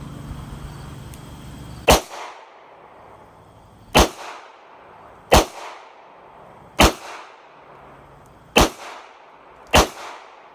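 .22 WMR shots from a Bear Creek Arsenal rifle or a short-barreled Ruger LCR revolver ring out at an outdoor range. Six sharp, loud reports come at spaced, uneven intervals, each followed by a brief echoing tail.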